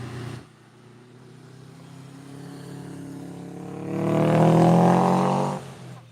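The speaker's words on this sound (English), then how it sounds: "Nice classic Porsche coming down the hill." Classic Porsche car coming down a hill, its engine note building from a low steady hum to a loud, rich near roar that peaks and then drops away abruptly.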